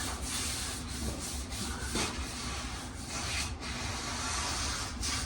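A brush scrubbing rust treatment onto a rusty Chevrolet C-10 roof panel, a steady soft rasping with uneven strokes, faint and close, with no voices.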